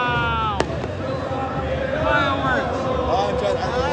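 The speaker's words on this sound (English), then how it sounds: "Fireworks." Fireworks bang and crackle over a loud, roaring stadium crowd at a Wydad Casablanca versus Mamelodi Sundowns football match, with one sharp burst standing out amid constant cheering and chanting.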